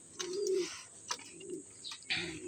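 Racing pigeons arriving after a derby coo softly in a few repeated low calls, close by, with faint rustling between them.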